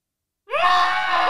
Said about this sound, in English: it's just a terrified man screaming